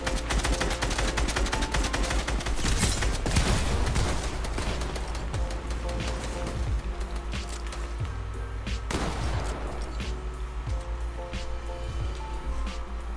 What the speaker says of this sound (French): prends ton coup de pistolet, toi